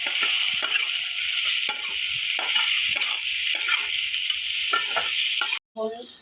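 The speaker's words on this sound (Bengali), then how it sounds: "লবণ কাঁচা লঙ্কা হলদি মরিচ সব দিয়ে দেবো আমার মশলাটা কষাতে হবে" Masala of tomato, salt, green chilli, turmeric and chilli powder fries in a pan with a loud close hiss, broken by repeated rhythmic stirring scrapes and a brief pause near the end.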